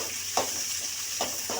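Onions fry in a kadai with a constant close sizzle, broken by two or three short scraping stirs.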